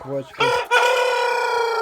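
A rooster crows loudly and close, a drawn-out call after a couple of short clucks, among chickens.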